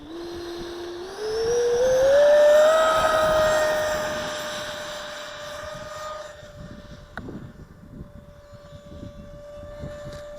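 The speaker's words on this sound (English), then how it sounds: "Now I was on high rate taking off." An aircraft takes off, likely a model plane: a loud, whining engine note rises in pitch as it speeds up, then holds steady and fades as it climbs away, with wind buffeting the microphone.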